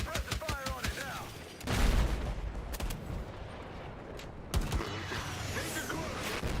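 Suppressive gunfire against a heavily fortified position in Battlefield 6: rapid bursts of shots and heavy booms, with rattling mechanical clatter around them, loud and continuous throughout.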